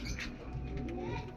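Soft, faint cooing of pigeons nearby, a brief low murmur under quiet background noise.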